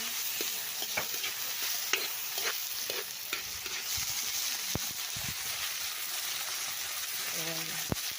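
Garlic and onion sizzle in a wok for chicken afritada, a steady crackling fry with intermittent scraping strokes of a utensil stirring, close and continuous throughout with faint background noise.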